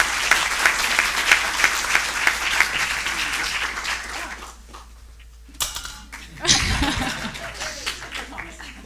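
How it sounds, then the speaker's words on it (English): Conference audience applauding in Paris at an inequality conference, a dense steady clapping that fades around the middle, then a fresh burst of claps and a few voices picks up again near the end. "So please give a warm round of applause to Mariana."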